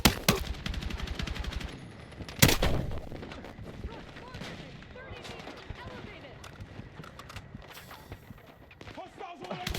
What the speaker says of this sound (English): Hostiles all over the place! Under fire!